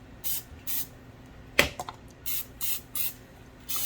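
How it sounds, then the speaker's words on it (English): Short hissing bursts of olive oil non-stick cooking spray coat the inside of a pan, several quick spritzes in a loose rhythm, close and clear, with a brief clatter partway through. "I am going to spray the inside with a little olive oil non-stick."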